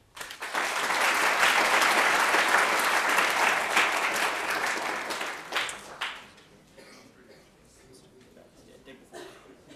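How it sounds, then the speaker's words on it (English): An audience at a business plan competition applauds the finalists, a dense burst of clapping swelling for about five seconds then tapering into scattered claps, with faint voices afterward. "let's give one more round of applause to our six finalists"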